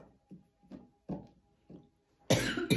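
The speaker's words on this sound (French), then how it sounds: "Tellement ils me font tousser." Four short coughs separated by pauses, quiet and close to the listener, then a loud burst of louder, fuller coughing close by at the end.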